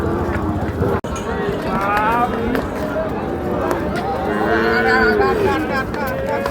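Cattle and bulls at a busy livestock market moo repeatedly over several seconds, close and loud, with shuffling, running hooves and a crowd talking throughout.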